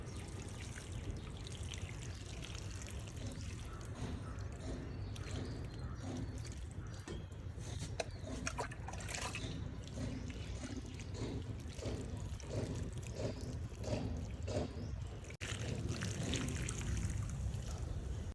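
Water pours from a mug into dry soil in rooftop garden pots, a soft continuous trickling and splashing that runs steadily with small variations and no voices.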